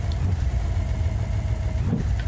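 A car engine in BeamNG.drive runs steadily while driving off-road in first gear, a continuous mid-range drone at moderate level with no talk over it.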